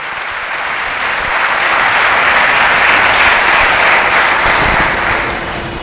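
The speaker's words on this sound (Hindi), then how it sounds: "उसके नाम के लिए जोरदार तालियां।" Loud, dense applause from a church congregation, swelling to a peak midway and holding steady without any voices on top.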